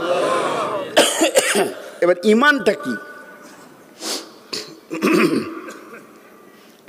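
A man coughs and clears his throat harshly several times after an insect went down his throat, short forceful bursts, with brief speech in between.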